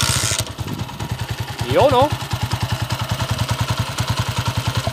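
A freshly repaired motorcycle engine idles close by with an even, rapid thumping pulse, briefly blipped partway through, while someone speaks a few words over it.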